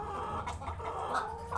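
Hens clucking in a laying flock, with several overlapping low clucks and murmurs filling the short stretch, close and steady with no talk.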